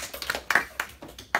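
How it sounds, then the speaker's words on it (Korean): A handful of students clap in a classroom, a few scattered, uneven claps spaced out over a moment rather than a full round of applause, close and fairly quiet. "박수 한번 주세요."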